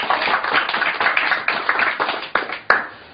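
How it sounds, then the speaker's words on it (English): An audience applauds after a university biologist is introduced at a design lecture, steady close clapping that thins out toward the end with a final sharp clap. "And big round of applause"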